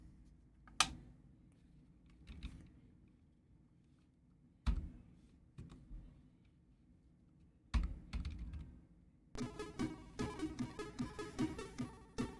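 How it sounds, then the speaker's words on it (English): Computer keyboard typing in scattered bursts of clicks, close and fairly quiet, followed by a denser, louder run of rapid keystrokes toward the end. "Just my keyboard."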